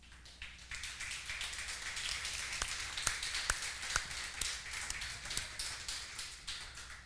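Church congregation applauding together during a sermon, a steady wash of many hands clapping with a few sharper individual claps standing out, moderately distant and sustained throughout.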